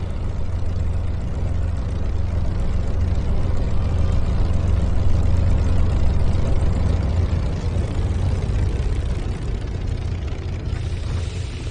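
Twin engines of a Spitfire in Microsoft Flight Simulator drone steadily and loudly, a dense low rumble with constant roar throughout, no voices over it.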